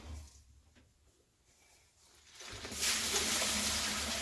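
Dirty water full of metal chips pours into a blue bin, starting as a faint trickle and swelling after a couple of seconds into a louder, close, steady splashing rush.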